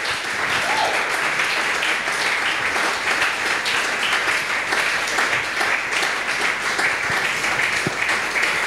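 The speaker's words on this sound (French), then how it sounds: "Est-ce que quelqu'un peut acclamer vraiment très fort?" A church congregation cheers and applauds, sustained loud clapping and shouting that fills the room evenly throughout.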